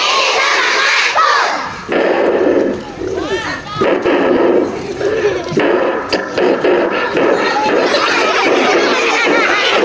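Schoolchildren at an elementary school event in Pangkalan Kerinci shout together in loud unison bursts, a dense crowd of young voices filling the space with brief pauses between calls.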